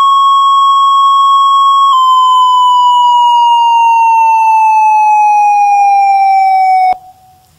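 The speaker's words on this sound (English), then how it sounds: "Here's the descending tone." A steady pure tone drops in pitch by a small step, then glides slowly and continuously downward for several seconds before stopping abruptly, heard loud and alone as part of an auditory hearing demonstration.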